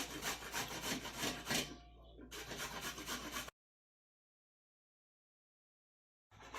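Raw green mangoes are scraped against a grater in quick, steady rasping strokes, close and clear, with a short pause before a few more strokes, then silence and a brief final scrape.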